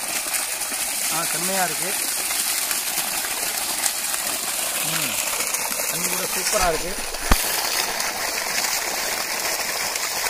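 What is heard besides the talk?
water gushing and falling in a farm garden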